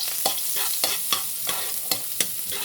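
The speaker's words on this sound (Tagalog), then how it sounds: "igisa na natin ang bawang" Garlic sautéing in a pan with a light, constant sizzle, broken by regular scrapes and clicks of a utensil stirring about every third of a second.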